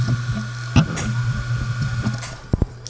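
An external hard drive hooked to a Mac running macOS Ventura gives off a steady low mechanical hum with a faint high whine, broken by soft clicks and knocks, including a quick double tap near the end.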